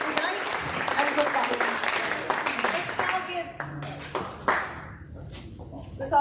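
A crowd at a Texas 32nd congressional district Republican runoff debate applauds in a loud burst of clapping that gradually thins out into scattered claps, with voices audible underneath.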